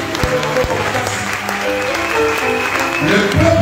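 A church congregation applauds in sustained, dense clapping at a prayer seminar. The sound fills the room loudly and steadily, with voices and a low musical hum mixed underneath.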